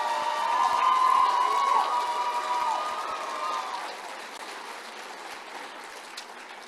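An audience applauds and cheers for youth award winners at the 2023 Colorado Springs Youth Citizenship Awards, a dense wash of clapping with a few bright shouts that is loudest at first and then gradually thins and softens.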